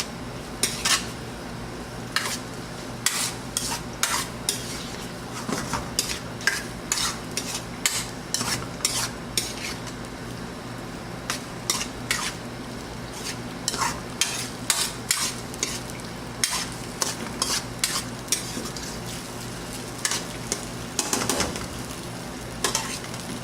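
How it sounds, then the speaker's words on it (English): Rigatoni pasta with Parmesan cheese stirred in a pan, a steady run of quick scraping and clinking spoon strokes over a soft frying sizzle, close and without any voices. "We're going to give it a good stir,"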